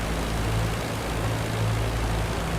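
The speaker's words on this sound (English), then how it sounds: "I heard an airplane extremely close to me." A propeller warplane in IL-2 Sturmovik 1946 passes close by during the attack on Pearl Harbor, a loud, steady engine drone with a low throbbing hum that holds for the whole moment.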